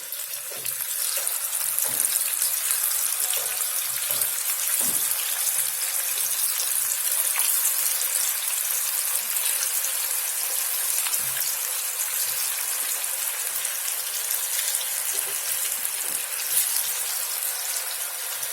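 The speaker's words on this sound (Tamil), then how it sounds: "இப்போ நம்ம சிக்கனை பொரிச்சு எடுத்துக்கலாம்" Chicken pieces fry in hot oil in a pan with a steady, bright, crackling sizzle that stays close and even throughout, with small pops scattered across it and no talking.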